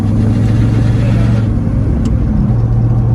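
A 1967 Pontiac GTO's engine droning loudly from inside the car as it pulls through its gears, a steady low rumble with a pitch drop near the end as it shifts.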